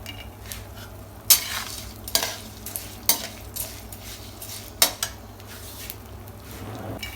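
Makhana (fox nuts) dry roasted in a pan without ghee or oil, stirred with a spoon: a soft rustling roll of nuts punctuated by several sharp scrapes and clinks against the pan, close and alone.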